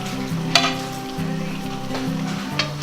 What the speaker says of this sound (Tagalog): Hahaluin nyo lang para matunaw po.